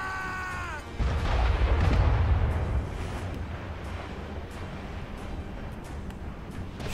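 Ship cannon fire in the video game Assassin's Creed Rogue: a heavy booming blast after a brief tonal cue, then a long rumbling roar with faint repeated cracks behind it.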